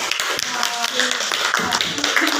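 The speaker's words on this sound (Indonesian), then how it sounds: "tepuk tangan ya untuk Ibu yang telah memberikan" An audience claps during a classroom session, with scattered quick taps overlapping beneath ongoing talk.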